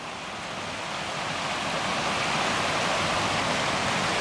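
Water flowing at the Rezzago earth pyramids in the Triangolo Lariano area of Italy: a steady, close, full rushing wash that builds slightly and holds evenly throughout, with no voices.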